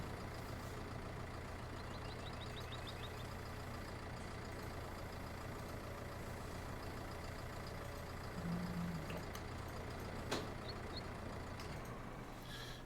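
A truck engine idling in the video game Farming Simulator 19, a low steady drone under faint reversing beeps and a brief air-brake hiss, then the rumble drops away near the end.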